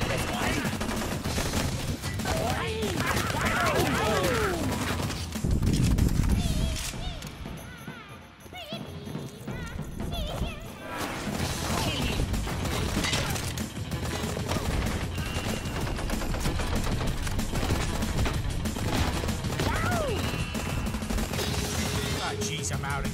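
Gunfire from the video game Blue Estate, repeated shots and bursts layered over busy game music and effects, with a heavy low thump near the middle; someone talks over parts of it.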